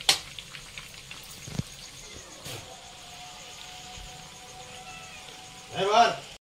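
Chicken pakodi with chopped green chillies deep-frying in oil over a medium flame, giving a faint, steady sizzle with brief clatters and a louder burst of bubbling near the end.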